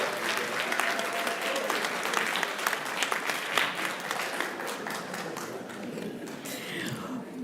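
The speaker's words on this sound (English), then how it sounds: "Please help me welcome with a hearty round of applause" Audience at a school board meeting applauding an honoree, continuous dense clapping from a room of people with crisp individual claps standing out, steady and moderately distant, fading slightly toward the end.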